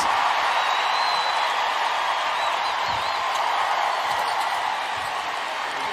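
At a WNBA exhibition game between the Indiana Fever and the Brazil national team, an arena crowd roars steadily and applauds in a broad, sustained wash of cheering.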